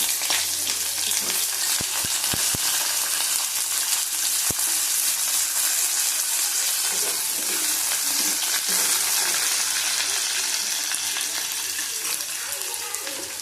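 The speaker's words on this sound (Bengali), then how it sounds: "আলু কুমড়ো দিয়ে দিলাম একসাথে।" Potato and pumpkin pieces fry in a pan with dried red chillies for a vegetarian chana dal dish, a steady loud sizzle filling the whole stretch, with a few sharp clinks of stirring near the start.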